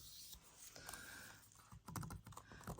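Keys on a 2024 HP Envy x360 laptop pressed in a quick irregular run of soft clicks, close up, with a burst of faster tapping near the end.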